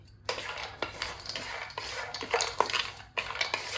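Almonds and cashews being roasted in a pan for a restaurant-style chicken mandi, with irregular scraping and clinking of a spoon against the metal as the nuts are stirred, close and fairly loud, over a faint sizzle.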